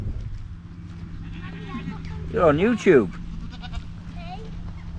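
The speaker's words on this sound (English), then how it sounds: "All of these baby goats" Baby goats at a farm let out a couple of loud, quavering bleats close by in quick succession while a person talks briefly nearby.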